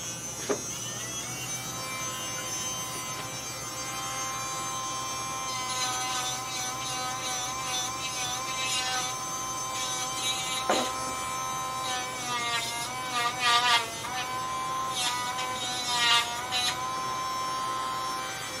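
Electric nail grinder buzzing on a Miniature Schnauzer's nails during grooming, a steady high whine that runs throughout with pitch wobbles and brief louder scrapes as it touches the nails.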